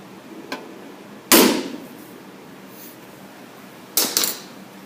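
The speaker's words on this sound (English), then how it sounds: "I'm going to give it one little bop with the hammer" A hammer gives a scratch awl sharp metallic taps against a metal tool box lid: a faint tap, then one loud ringing strike, and later a quick double strike, each decaying briefly over quiet room tone.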